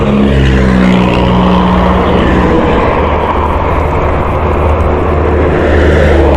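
Honda CBR150i motorcycle engine running on a test ride, a loud continuous drone with a rising tone early on, steady and close with heavy wind noise and no talking.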